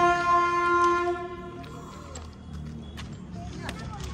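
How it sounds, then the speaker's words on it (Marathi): A train pulls up at a railway crossing in Ujjain, a long horn blast at the start followed by rumbling rail noise, with people talking nearby. "पटरी क्रॉस करता करता ट्रेन पण आलेली"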